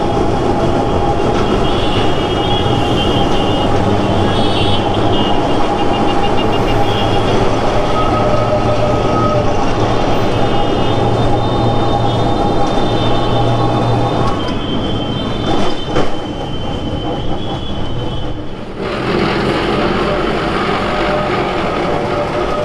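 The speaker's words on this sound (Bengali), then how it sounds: "এবার আমাদের ট্রাম ঢুকে যাচ্ছে ডিপোর দিকে।" Kolkata heritage tram pulling into its depot at Esplanade, heard from on board as a loud, sustained rumble with squealing wheels and metallic clatter, with a sharp jolt and shift in sound near the end.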